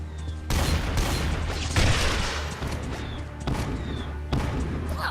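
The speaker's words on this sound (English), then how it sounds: "Hey, I've got a mortar." Mortar fire in the RWBY Grimm Eclipse action game, a series of loud broadband booms and blasts repeating every second or so over a steady low game rumble, with no talk over them.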